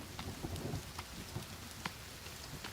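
Rain falls steadily in a video game, a dense even hiss with scattered droplet patters and low rumbles, continuous and fairly faint, with no talk.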